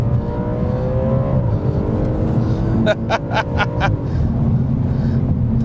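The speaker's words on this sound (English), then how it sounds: "Those downshifts are quite aggressive." A B8 Audi RS4 engine drones loudly, its pitch dropping as it downshifts aggressively, then a quick series of sharp revving blips before settling back to a steady rumble.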